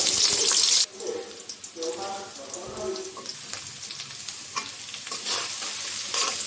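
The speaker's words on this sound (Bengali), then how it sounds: "পেঁয়াজটা ভেজে নেব" Chopped onions hit hot oil with a loud sizzle that quickly settles into softer, crackling frying and stirring, close up, while cooking meat curry.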